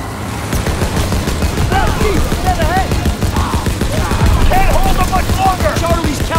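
Mounted machine gun fire in Call of Duty WWII during a vehicle road battle in Marigny, France, a dense continuous clatter of rapid bursts amid explosions and chaotic combat noise, with shouted voices over the din.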